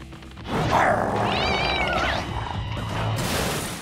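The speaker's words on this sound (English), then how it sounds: "Foaming Alley Cat alert!" A cat lets out a drawn-out, wavering meow, loud and close, with a yowling edge, and no one speaking.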